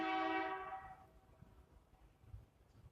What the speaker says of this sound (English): they're doing maintenance on the train tracks over here, and they got their trucks that have the built-on train rail things